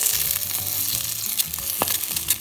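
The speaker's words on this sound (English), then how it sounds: "I'm gonna use a spatula and start to scrape this up. Get under that and flip it." An egg frying in a pan being restored after losing its nonstick coating sizzles steadily while a spatula scrapes underneath and flips it, with a sharp scrape or clack near the middle.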